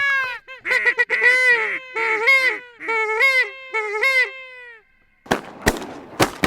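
Pacific black ducks calling loudly and close during a duck hunt, a run of rising nasal honking quacks for about five seconds, then a brief pause and several sharp, loud bangs like shotgun blasts.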